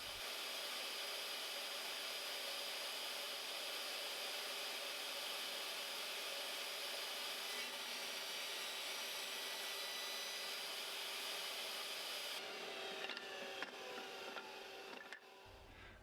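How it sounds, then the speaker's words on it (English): A power saw runs steadily while rough cutting purpleheart wood pieces to size, giving a continuous high whine that changes tone briefly near the end before fading, close and alone without voices. "Now I can rough cut all of the Purpleheart pieces to size."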